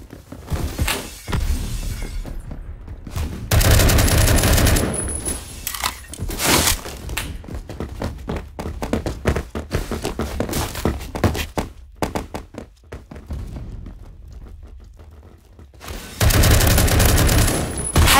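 Rapid automatic gunfire from an AR rifle, loud sustained bursts with sharp cracks and crunching impacts, several long volleys separated by shorter quieter stretches.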